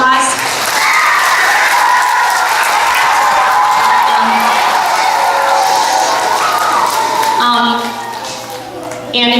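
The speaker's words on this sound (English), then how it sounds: "so if you could give him a round of applause" Audience applause at a primary school reader's theatre show, a steady wash of clapping that tapers off near the end as a voice begins to speak.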